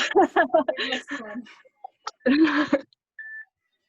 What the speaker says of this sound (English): There's the end of the timer.